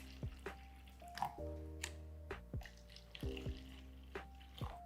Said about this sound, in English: We're gonna take regular water. This is just a regular bottled water. We're gonna put it in those cups.